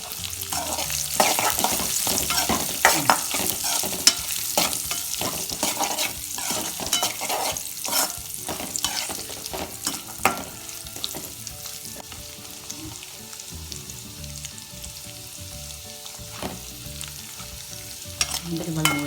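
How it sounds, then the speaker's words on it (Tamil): Cashew nuts and raisins frying in a pan for a moong dal payasam, with a loud continuous sizzle broken by stirring scrapes and clinks, close up and without talk. "வறுத்து வச்ச எல்லாம் அண்டி பருப்பு"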